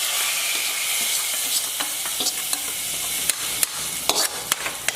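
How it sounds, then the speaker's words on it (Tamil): Mustard seeds and urad dal temper in hot oil for a Kumbakonam-style siru keerai masiyal, a close, continuous hiss broken by sharp pops and crackles that grow more frequent toward the end, with no talk. "கடுகு உளுத்தம் பருப்பு தாளித்து கொட்டிட்டு"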